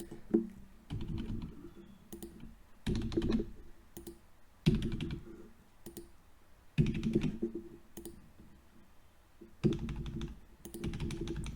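Bursts of rapid keyboard typing entering random placeholder text on a computer, several clusters of close, crisp key clicks separated by short pauses, no voices.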